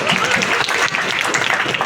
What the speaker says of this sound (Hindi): जोरदार ताली के साथ स्वागत कीजिए अवनी जी का